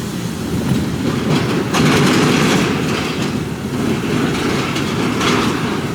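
Inside the cab of a Mercedes Actros HGV container truck on the docks, a steady loud rumble with continuous rattling and clattering carries on for the whole stretch, and no one speaks.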